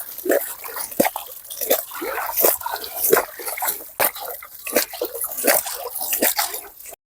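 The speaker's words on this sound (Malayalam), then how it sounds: "നല്ലതുപോലെ നനയത്തക്ക രീതിയിൽ വെള്ളം ഒഴിച്ചു കൊടുക്കണം" Water is poured onto spinach plants grown between bitter gourd vines, making close, irregular splashes and drips in uneven bursts.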